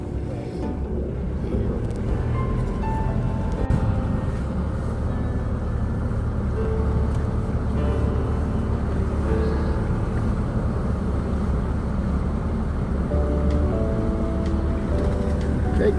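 Car engine droning steadily through a drive over rutted off-road tracks, low rumble with wind buffeting, continuous and fairly close, with a voice talking over it at times.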